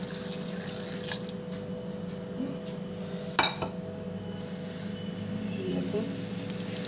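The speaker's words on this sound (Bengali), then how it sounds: "এরপরে এর মধ্যে জল দিয়ে আবার থেকে ধুয়ে নেব।" Fish pieces rubbed with salt and turmeric are rinsed with water in a bowl in a home kitchen, giving steady splashing and swishing with a clink of the bowl near the middle, close and moderately loud.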